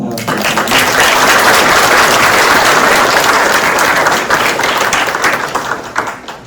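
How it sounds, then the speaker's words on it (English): A large audience applauds after a spiritual talk by a visiting swami, with dense, loud, sustained clapping that tapers slightly near the end. "Another round of applause."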